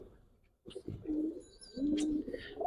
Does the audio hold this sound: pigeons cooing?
yes